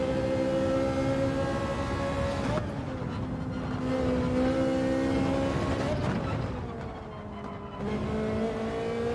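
A Ferrari engine at speed in Gran Turismo 7, a loud, sustained drone that rises and falls through gear changes and dips as it lifts off, then pulls back up. A voice talks faintly underneath.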